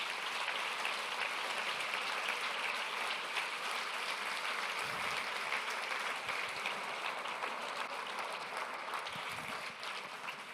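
A church congregation applauding during a Christian sermon, a continuous, even wash of many hands clapping in a reverberant room, sustained for about ten seconds.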